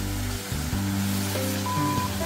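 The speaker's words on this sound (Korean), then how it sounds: "이것이 절구폭포입니다." Jeolgu Falls, a two-tiered waterfall with a mortar-like hollow in Yongchu Canyon on Juwangsan, Cheongsong, pours with a steady, unbroken rush of water, while a low constant hum runs underneath throughout.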